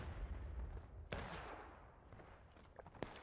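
Rifle volley at a reenactment event: a single sharp crack bursts out amid low, rumbling outdoor noise, followed by fainter pops and shuffling, all fairly distant and quiet.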